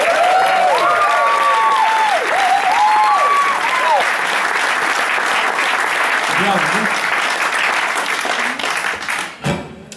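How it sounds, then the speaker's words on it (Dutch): A theater audience gives big applause for the sound technician during a live concert, a loud dense roar with whistles and cheers over a wavering voice, ending in an abrupt thump. "Dames en heren, mag ik nog even een heel groot applaus voor Steven die het geluid doet gaan."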